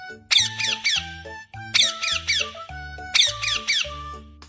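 A parrot lets out sharp, squeaky squawks in three quick bursts, each a cluster of shrill chirping notes separated by short pauses.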